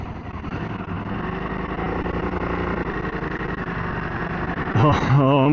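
An EBR Buell 1190SX V-twin sportbike pulls away with a low, throbbing engine note that builds steadily, then climbs sharply in pitch as it gains speed near the end.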